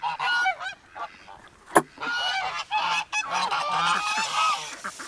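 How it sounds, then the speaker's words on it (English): Geese on a farm honk loudly and repeatedly in a noisy, overlapping chorus, heard close with brief pauses between bursts. "Feeding Nugget and the geese."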